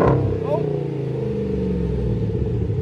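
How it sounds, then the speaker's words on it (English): A car engine with its resonator still installed revs up and settles into a rumbling idle, loud and close, with a person speaking briefly at the start. "Give it a little rev."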